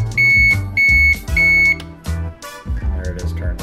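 An SXE Electronics wireless charging digital alarm clock sounding its alarm at lower volume, three loud, even electronic beeps in a row followed by softer clicking and handling noises.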